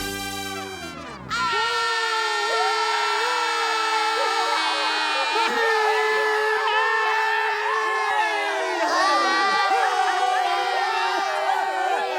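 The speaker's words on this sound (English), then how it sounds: "and then all the people yelled" An animated crowd of people yells together at the big wall, a sustained, loud mass of voices that swells in right after a brief opening tone and holds steady throughout.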